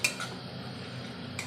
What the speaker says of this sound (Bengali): আদা বাটাটা একটু নাড়াচাড়া করবো।